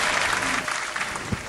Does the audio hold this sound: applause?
yes